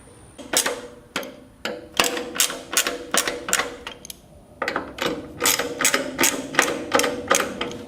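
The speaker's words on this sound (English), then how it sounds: "we gotta bolt it in from the back." A ratchet wrench bolting the rear fender onto a Victory Magnum motorcycle, with rapid, repeated clicking strokes in two bursts separated by a brief pause, close and clear with no talking.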